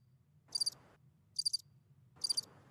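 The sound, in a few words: crickets chirping sound effect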